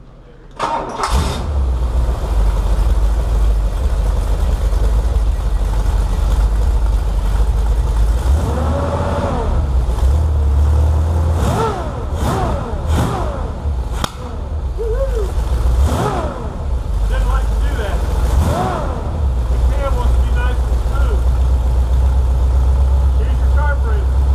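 Newly built, carbureted engine running on a test, a loud continuous low rumble with repeated revving swells throughout, while a person talks over it.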